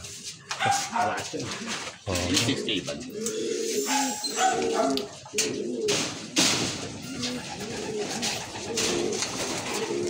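Pigeons coo in a loft throughout, with a dog barking and whimpering among them and someone talking in Filipino over the birds.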